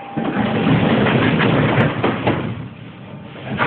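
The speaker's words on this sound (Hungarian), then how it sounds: "Kérem vigyázzanak, az ajtó zárulnak." Doors on a Budapest M2 metro train close with soft clunks and thumps over a loud, steady rumble inside the carriage.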